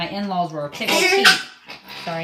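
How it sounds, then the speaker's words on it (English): A pet dog barks briefly indoors, mixed in with a woman's close, ongoing talk. "that's my dog."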